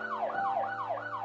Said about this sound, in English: David Dahlberg was rushed by ambulance from Olympia to Seattle.